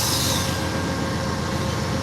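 Amtrak California Zephyr passenger train standing at Ottumwa station, giving a steady, loud broadband rumble and hiss of idling equipment close by, with no voices.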